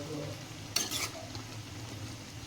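A sesame bhartha mixture bubbles and sizzles in a pan, a steady low simmer with a short burst of stirring or spattering partway through.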